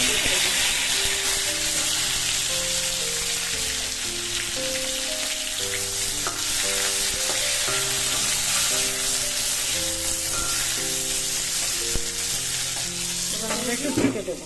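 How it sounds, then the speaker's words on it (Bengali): Okra dropped into hot oil for a masala okra dish fries with a steady broadband sizzle under melodic background music, with a few louder stirring bursts near the end. "বন্ধুরা, আমাদের তেলটা কিন্তু এবার গরম হয়ে গেছে। এবার আমরা ঢেঁড়সগুলো তেলের মধ্যে ছেড়ে দিই।"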